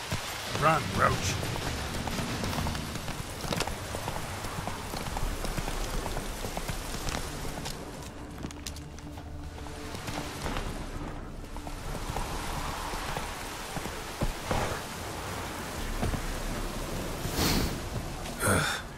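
Steady rainfall patters in The Witcher 3 game world, with occasional hoofbeats and spoken voices over the wet ambience.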